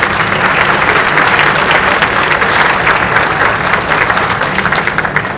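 Loud, steady applause from a large audience at an indoor marching band concert fills the space, continuous dense clapping with no break.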